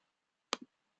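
A computer mouse gives a single crisp double click, press and release, close and clear against near silence.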